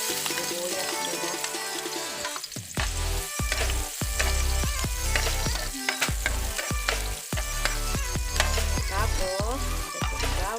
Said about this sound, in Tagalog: Pag mainit na yung ating mantika, tayo ay magigisa na ng bawang, sibuyas, at kamatis.